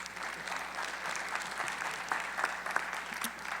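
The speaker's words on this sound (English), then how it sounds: "Let's give him a round of applause," Audience applause for Dr. Dangerfield at a morning panel, a steady wash of moderate clapping across the room with a few sharper individual claps near the end.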